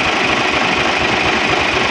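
An Isuzu 6WG1 diesel engine, freshly fitted with a new cylinder head, runs steadily nearby, a loud continuous rumble with fine knocking texture and no voices.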